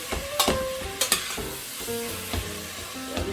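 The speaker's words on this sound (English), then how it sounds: "Now let's go saute this meat." Meat sautéing in a pan on a BBQ, a steady sizzle broken by several sharp bright scrapes and clatters of stirring, close and fairly loud with no talk.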